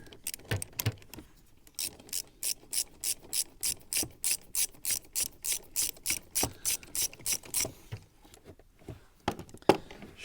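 A long socket ratchet backs out a 10mm bolt on a Citroen DS4 Sport 2.0 HDi, giving a steady run of about twenty evenly spaced, close ratchet clicks before it stops.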